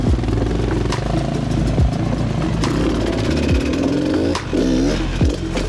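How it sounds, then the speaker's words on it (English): Suzuki DRZ enduro motorcycle on an off-road trail, engine loud and close, revving in repeated sharp bursts with pitch swings between throttle blips, no talking. "Chris is keen to hit the same log with the DRZ"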